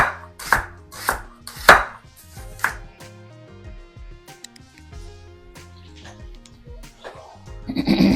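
A knife chops carrots into long strips on a board: four or five sharp, close chops in quick succession, then sparse lighter taps and a rustle of vegetable pieces near the end.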